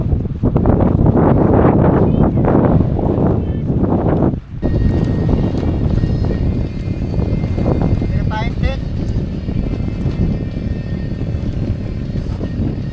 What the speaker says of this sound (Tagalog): Kung mapapansin nyo dito, napakalakas ng hangin.